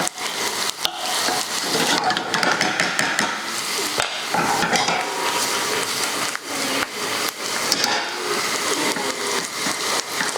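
Whole spices bought from an Indian deli fry in a pan, giving a loud, dense, continuous sizzle and crackle with occasional scrapes and knocks of a utensil, close up and without talk.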